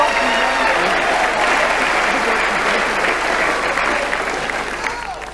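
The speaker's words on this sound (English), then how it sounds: "And a round of applause for our referee, the best in the business, Mr. Billy Miles." Crowd at a 1990 world title kickboxing event applauds the referee, a loud, continuous wash of clapping and cheering that fills the arena and fades slightly toward the end, with an announcer's voice over it.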